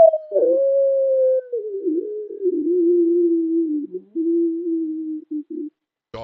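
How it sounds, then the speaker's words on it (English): A werewolf howl sound effect: one long, tonal, mournful howl that slowly slides downward in pitch and breaks off near the end. It is loud and isolated, with no growl evident. "while this thing's howl was terrifying, the growl is what really cemented it as a creature straight out of hell"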